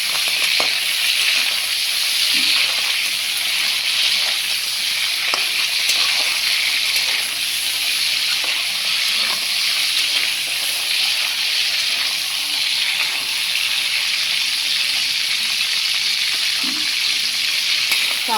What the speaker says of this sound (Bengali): কাঁকড়াটা ভাজা হয়ে গেছে